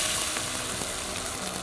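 Garlic and pork lard fry in a pan in a kitchen in Ouro Preto, Minas Gerais, with a steady, dense sizzle that stays close and even throughout and has no talk over it.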